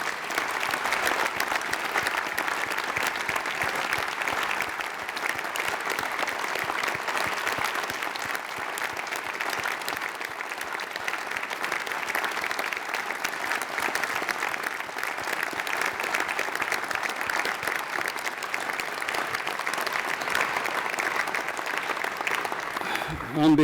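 A large audience at a 2014 medical college graduation conferring ceremony claps for the graduates' parents and relatives, a dense, steady applause that holds at full strength for over twenty seconds without letting up.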